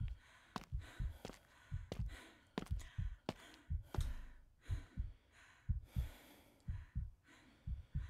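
Loud, heavy character breathing from the horror video game Fears to Fathom: Woodbury Getaway, with a steady run of close sighing breaths and gasps, roughly two per second, and no talk.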